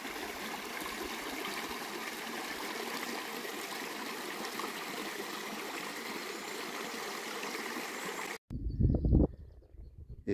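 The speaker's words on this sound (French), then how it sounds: "séquence petit ruisseau" Small stream flowing in Galicia, a constant close rushing and trickling of water running steadily for about eight seconds before cutting off abruptly, followed by brief louder handling noise.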